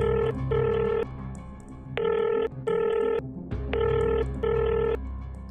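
A telephone rings loudly and close by in a domestic scene, sounding in repeated pairs of electronic bursts with short pauses between them and no voices over it.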